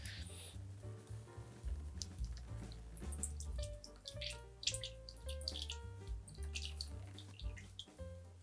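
Juice from oven-baked chicken wings pours off a baking sheet, a soft liquid trickle and dripping under a constant low musical background.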